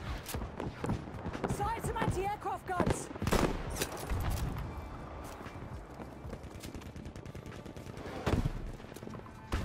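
Bursts of gunfire and clattering effects crowd a busy Battlefield game soundscape, with sharp loud shots standing out near the start and end.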